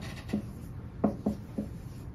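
Marker or chalk strokes on a board while writing out a notation expression, a few short scratchy rubs in quick succession, close and faint under a steady room hum.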